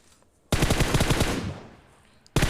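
Loud automatic gunfire from the mobile battle-royale game PUBG Mobile rattles in a rapid burst of about a dozen shots, trailing off into an echo before another burst starts abruptly.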